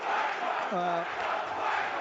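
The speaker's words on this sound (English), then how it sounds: "You can hear what the Luton fans think of the referee, John Brooks, for that non-decision" Luton football fans roar in angry protest at the referee's decision, a loud, continuous stadium crowd swell with shouting voices rising briefly in the middle.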